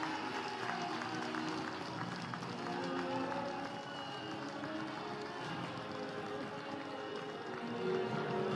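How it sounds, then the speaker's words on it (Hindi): Applause from an audience at an inauguration and foundation stone laying ceremony for national highway projects, a sustained clapping crowd heard at a moderate distance that continues steadily through the whole stretch with no talk over it. "एक बार जोरदार तालियां हो जाए।"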